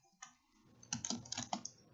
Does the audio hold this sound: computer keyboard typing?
yes